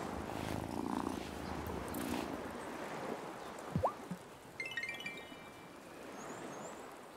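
A cat purrs softly and steadily in the farming life game Wylde Flowers, a low continuous rumble over quiet water-like ambience, with a couple of brief sharper game sounds near the middle and a faint high chime toward the end.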